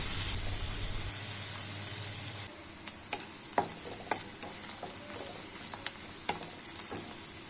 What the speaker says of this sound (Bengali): এবার কড়াতে 1 চামচ বাটার দিয়ে পেঁয়াজগুলোকে ভালো করে ভেজে নিতে হবে যতক্ষণ না গোলাপি রং আসছে